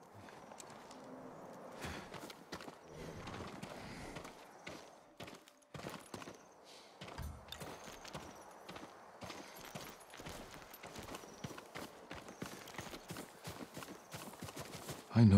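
Horse hooves clip-clop steadily on the ground in Ghost of Tsushima, where a farm horse walks with a repeated, moderately near rhythm; the footsteps run alone without talk over them.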